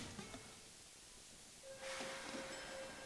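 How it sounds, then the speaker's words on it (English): Rail noise inside a train carriage on a ride home in Tokyo: a low steady rumble and hiss, growing louder and brighter midway, with a sustained tonal whine joining in as the train gathers speed. "Riding my train back home"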